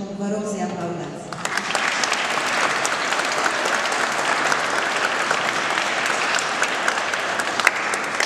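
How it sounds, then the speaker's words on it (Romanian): Audience at a literary prize ceremony in Lugoj breaks into sustained, dense applause after a brief spoken introduction, the clapping steady and close for several seconds. "vă rog să-i aplaudați"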